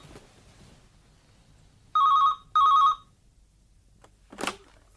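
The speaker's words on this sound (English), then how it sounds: "Just let me answer this phone," A telephone rings in two clear, loud bursts in a radio drama, with a short gap between them and a quiet room otherwise.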